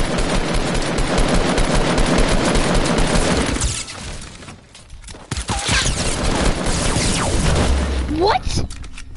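Dense automatic gunfire in Fortnite, loud and continuous for several seconds, then breaking into sparser shots and impacts; a voice talks over part of it.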